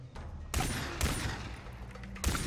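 Gunfire aimed at a boar in the video game Far Cry 3, three loud, abrupt blasts spaced about half a second to a second apart, each cutting off into a short echoing tail.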